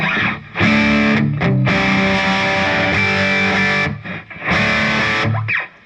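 Crunchy, saturated electric guitar chords through a Boss Katana Artist MkII amp on its brown sound setting ring out in sustained bursts with brief gaps, thick and loud with a warm, overdriven tone.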